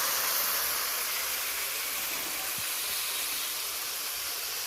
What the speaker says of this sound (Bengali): এবার আমি কিছুটা পরিমাণ গরম জল দিয়ে দেবো।